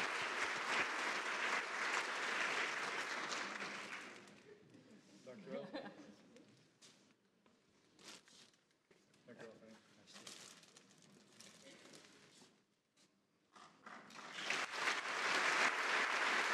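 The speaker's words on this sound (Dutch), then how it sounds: "En graag applaus." Applause fills a hall at a university academic-year opening ceremony, a dense clapping crowd that fades out after about four seconds, leaving quieter murmurs and speech before a second loud burst of applause near the end.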